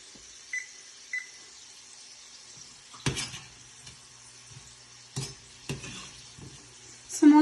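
Samosas frying in ghee in a kadhai, slow and at medium heat: a faint, steady sizzle broken by a few sharp clacks and knocks from utensils, close by, with no talking.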